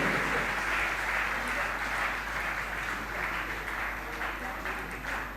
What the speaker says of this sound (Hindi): जोरदार तालियां इस परिवार के लिए